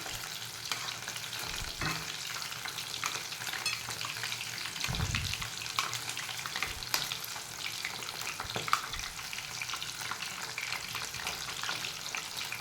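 Paneer chilli frying in a pan over medium heat while being turned, a steady close sizzle with intermittent scraping and stirring knocks and scrapes.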